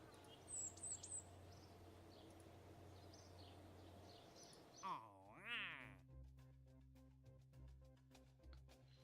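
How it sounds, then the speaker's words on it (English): Birds chirp outdoors in short, fairly faint bursts over a constant low hum, followed by a louder whistling sweep and a clicking, buzzy tail. "Can you hear the loud ass birds?"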